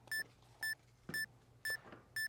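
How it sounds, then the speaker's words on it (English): A heart rate monitor watch sounds its alarm during stair exercise: five short, identical electronic beeps repeat at a steady half-second rhythm over a quiet background. "You can hear that the alarm is ringing."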